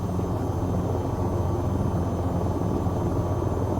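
An AH-6 Little Bird helicopter hovers in place in the VTOL VR flight game, its steady rotor and engine drone filling the scene at a constant, close level with no break.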